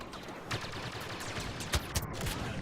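Blaster gunfire crackles in the video game Star Wars Battlefront, scattered quick shots and bursts over a busy, moderately quiet battle background.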